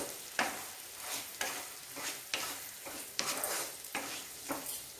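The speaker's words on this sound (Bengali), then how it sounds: "আলু আর ফুলকপির সঙ্গে সব উপকরণগুলোকে ভালো করে মিশিয়ে দেব।" Potatoes and cauliflower stirred with spices in a frying pan for a sabudana pulao, giving repeated scraping strokes at a steady rhythm over a soft sizzle, close and moderately loud.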